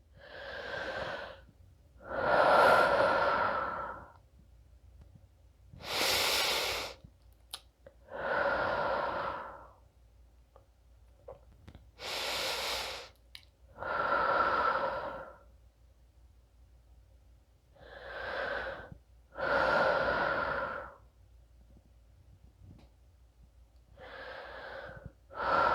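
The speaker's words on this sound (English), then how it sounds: "We're going to take a few deep breaths here." Slow, deep breathing while lying in yoga Shavasana: about seven long, audible inhale-and-exhale cycles with quiet pauses between them, close and clear, with no talking.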